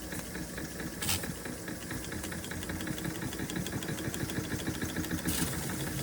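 An Empire B42 model steam engine runs slowly on steam with a steady, soft chuffing and mechanical knocking rhythm, close by and fairly quiet, with brief hissy bursts.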